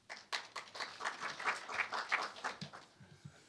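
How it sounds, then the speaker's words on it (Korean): An audience at a public forum on quantum science and technology applauds to welcome a speaker, with steady, fairly faint clapping from many hands that dies down to a few scattered claps at the end. "큰 박수로 모시겠습니다."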